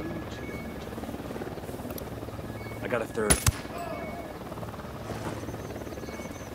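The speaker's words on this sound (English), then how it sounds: "Chopper incoming." A helicopter approaches in Ghost Recon Wildlands, its steady chopping rotor drone running under brief talk, with a short burst of sharp gunfire partway through.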